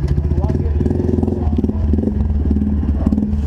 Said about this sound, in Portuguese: Ficou da hora, hein? Esse novo escape aí.